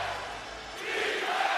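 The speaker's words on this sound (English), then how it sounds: "Crowd back into it." A packed basketball arena crowd at a Knicks–Celtics playoff game roars in a sustained, swelling cheer that grows louder partway through, broad and distant-sounding with no clear speech.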